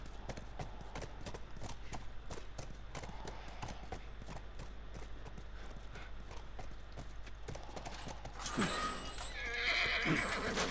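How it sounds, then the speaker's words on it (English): Steady hoof clip-clop from a horse in The Last of Us runs under quiet ambience, then the horse lets out a loud, close whinny near the end. "Stay with the horse."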